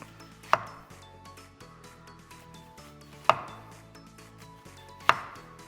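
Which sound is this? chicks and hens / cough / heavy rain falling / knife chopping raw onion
knife chopping raw onion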